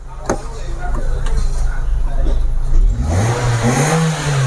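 A car engine is revved with a rising roar and climbing pitch to check for water coming out of the exhaust, loud and close, after a stretch of steady idle with people talking nearby.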